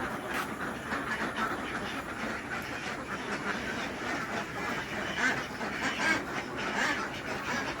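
Ducks at feeding time give a continuous, moderately distant chorus of overlapping quacks and chatter with no clear individual calls, steady throughout.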